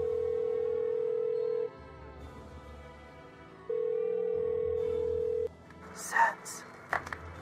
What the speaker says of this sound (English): I hear his phone.